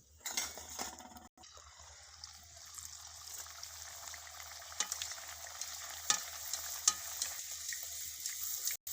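Spinach kachori puris deep frying in hot oil give a steady, close crackling sizzle with a few sharper pops and spatters, running unbroken with no voices.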